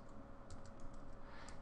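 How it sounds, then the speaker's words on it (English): Quiet typing on a computer keyboard, with a quick run of soft key clicks over a faint background hiss. "And if I start typing here"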